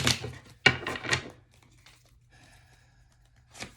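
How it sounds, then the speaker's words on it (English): Tarot cards being shuffled by hand, giving a few crisp papery riffles and crinkles in quick bursts at the start, then near silence and one more brief riffle at the end. "Shuffling."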